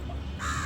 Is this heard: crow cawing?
yes